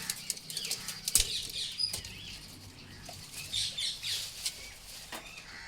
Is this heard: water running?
no